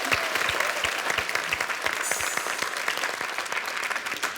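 Steady, dense applause from a studio audience for pastry chef Kirsten Tibbles on a MasterChef Australia Valentine's Day cooking segment, loud and continuous throughout with no talk over it.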